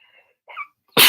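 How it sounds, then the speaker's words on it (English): A single sharp, loud sneeze bursts out at the end, close by, after a couple of faint breathy sounds. "Hold on, I'm going to sneeze."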